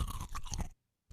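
A Foley crunch effect: a short burst of crisp, crackling crunches lasting under a second, then silence before a brief fresh onset, close and dry with no voices.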